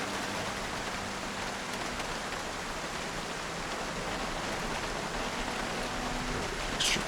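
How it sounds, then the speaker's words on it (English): Rain falling in the Project Zomboid video game, a steady, dense hiss of rainfall that holds evenly throughout with no voices over it. "And the rain is coming down."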